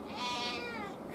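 A cat gives one drawn-out, fairly quiet meow close by, rising and then falling. No one talks over it.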